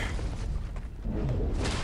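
A booming explosion in a fighting video game, played as Morningstar, rumbles loud and dense through the whole stretch with a brief dip midway and low, heavy energy throughout.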